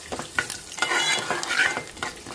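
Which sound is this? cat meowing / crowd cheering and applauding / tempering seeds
tempering seeds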